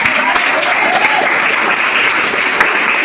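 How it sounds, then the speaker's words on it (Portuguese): A church congregation breaks into steady applause, dense clapping from many hands that holds at an even level throughout the few seconds. "Quem é livre, dá uma salva de palmas"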